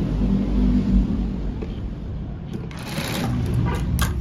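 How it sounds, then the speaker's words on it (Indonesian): Sewing machine stitching the bottom of a child's lace sleeve, a steady close motor whir that runs continuously, joined near the end by faint light clicking. "ini bagian bawahnya saya jahit lagi"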